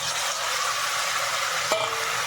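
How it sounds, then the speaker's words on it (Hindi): Onion and tomato fry in a kadhai with a loud, steady sizzle filling the whole stretch, close up, plus one brief scrape of a stirring spoon near the end; no voices. "प्याज और टमाटर को भल कर मिक्स कर देमु"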